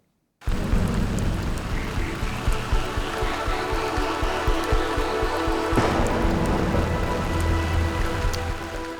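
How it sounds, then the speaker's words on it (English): Steady, heavy monsoon rain falls in Mumbai, a dense hiss of drops on surfaces with patters and drips close by, holding loud and continuous throughout with no voices. "So the rains are finally here and the showers of blessings come as much needed relief for sweltering maximum city."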